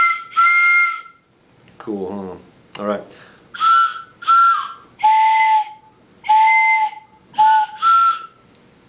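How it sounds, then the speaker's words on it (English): Short, piercing blasts from handmade ceramic whistles sound one after another, some single and some in quick pairs, with someone speaking briefly between them. "Blow it in there, and made 4 whistles. So each one of these is its own whistle."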